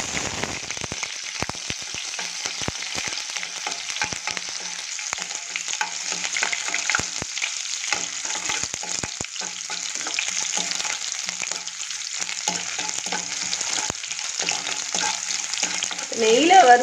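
Chopped onion and fenugreek seeds fry in hot ghee, giving a steady, close sizzle throughout with frequent scraping stir strokes and a slight swell at the finish, and no talking.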